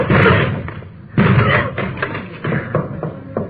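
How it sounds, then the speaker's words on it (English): Police officers force a locked door in an old radio drama, a series of heavy thuds and bangs against wood, several hard impacts spaced unevenly, loud and close. "Door's locked. Let's hit it."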